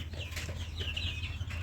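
Tiger chickens, a heavy meat breed kept on a farm, cluck and call in soft repeated bursts, with some wing flapping, over a steady low hum.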